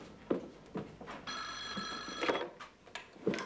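An old-style telephone bell rings in a steady trill for about a second in the middle, alone with no talk over it, amid faint room noise and soft knocks in an Egyptian TV drama.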